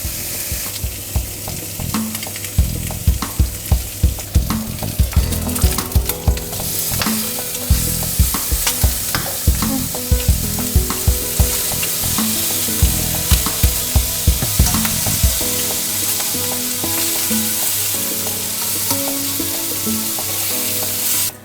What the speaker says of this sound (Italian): Wow, sentite come sfrigola